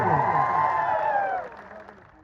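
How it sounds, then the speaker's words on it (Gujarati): A crowd at a village political rally cheers and applauds loudly, with shouts over the clapping, then the noise fades away toward the end. "આપણે જોરદાર તાળીઓ પાડી લઈએ"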